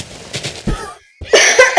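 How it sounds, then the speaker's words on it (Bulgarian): A sick person playing Minecraft coughs a few times in quick succession, close to the microphone and fairly loud, followed by a short pause and then a louder burst of noisy sound. "Извинявайте за дето така леко кашля, просто сме малко болнички"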